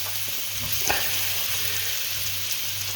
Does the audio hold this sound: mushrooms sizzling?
yes